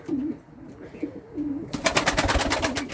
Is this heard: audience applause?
no